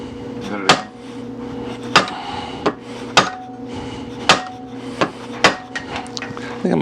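A hammer strikes the abutment washer of a Daisy Model 96 Widebody BB gun during removal, about nine sharp, ringing blows at uneven intervals over a steady low hum, close and loud.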